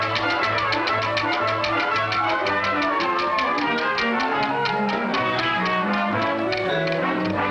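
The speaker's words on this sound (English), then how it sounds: "Turn the wheel." A game show prize wheel spins with a steady run of rapid clicking ticks that slowly ease off as it winds down, heard up close over light background music.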